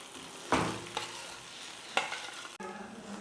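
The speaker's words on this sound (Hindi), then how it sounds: "अब हम इनको थोड़ा चला लेंगे।" Peas frying in a pan are stirred with a utensil, giving a few distinct scraping sweeps over a steady close sizzle, with no talking.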